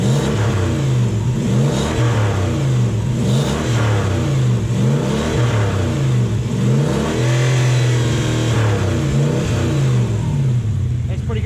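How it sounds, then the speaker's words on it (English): Loud car engine being revved repeatedly, with an exhaust leak adding a raspy, puffing edge; rising and falling revs in close, even waves throughout. "it has got an exhaust leak as well"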